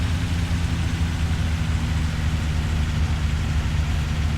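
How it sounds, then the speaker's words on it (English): A Scania 143M truck engine in Euro Truck Simulator 2 drones steadily and deeply, humming continuously with a low, throaty rumble and no breaks, close and fairly loud. "Listen to that engine roar."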